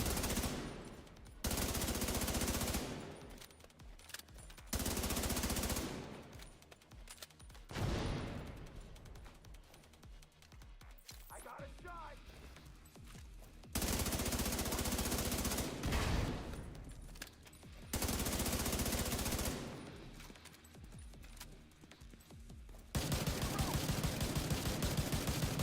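Bursts of automatic gunfire from a video game during a winter event, loud sustained volleys lasting a couple of seconds each, separated by quieter gaps with scattered single shots.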